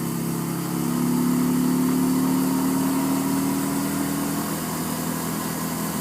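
A motorcycle engine drones steadily and close while riding through gear shifts, a low, continuous hum with a slight swell in pitch as it runs.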